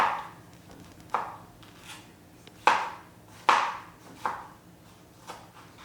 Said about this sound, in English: So these are the sizes that we cut the tomatoes, this size.